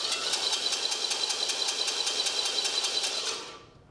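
A badly shimmed starter motor spins its pinion against an engine flywheel, producing a loud, harsh rapid grinding chatter with a steady pulsing rhythm, close up, before winding down at the end.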